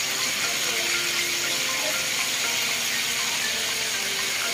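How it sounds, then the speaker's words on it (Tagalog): Pork steak frying in a pan over medium heat gives off a steady, dense sizzle that holds at an even, fairly loud level throughout, with no talking. "ipiprito ko lang siya dyan in medium heat"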